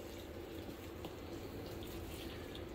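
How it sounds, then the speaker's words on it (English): Water poured from a jug onto potted cannabis plants in an indoor grow, a steady, continuous wash of splashing liquid held at an even level throughout, close by and with no talk. "I'm just gonna go through and I'm gonna water everything."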